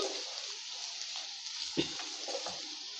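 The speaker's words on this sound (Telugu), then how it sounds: "మొత్తం వేసుకొని ఈ విధంగా కలుపుకోవాలండి." Onion and chili powder mixture for a dandakaya dish fries in a pan, giving a steady close sizzle with a few soft scrapes of a spoon stirring through it, alone without talk.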